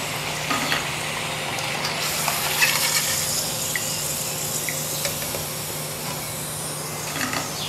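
Freshly fried pieces are lifted out of hot cooking oil, the oil sizzling and bubbling steadily with faint clinks and scrapes from utensils, close and moderately quiet throughout.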